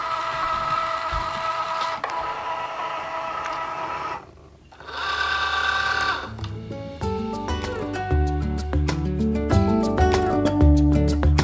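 A Cricut Joy cutting machine draws on vinyl with its pen, giving a steady mechanical whir and shifting motor tones that step up and down in pitch, close and alone with no talk.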